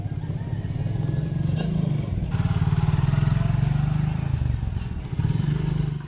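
A Suzuki Gixxer Monotone motorcycle runs with a steady low engine rumble and a throbbing exhaust note that holds its level throughout, with a slight dip partway.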